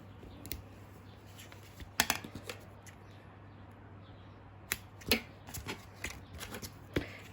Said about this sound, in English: So I'm just going to put some tape here on the edge.